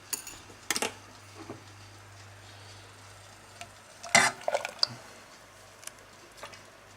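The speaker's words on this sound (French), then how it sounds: "Et je remue jusqu'à ébullition et liaison." An egg and milk mixture is stirred in a saucepan while heating toward a boil, with soft, intermittent scraping and clinking strokes against the pan.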